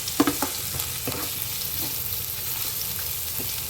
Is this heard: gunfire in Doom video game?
no